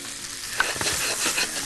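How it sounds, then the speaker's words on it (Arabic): Beef shawarma sizzles in a hot pan, a loud, steady frying hiss broken by stirring scrapes, with no talk. "تعالى نجيب طاسه حلوه تانية سخنه نبدا نخش على الشاورما"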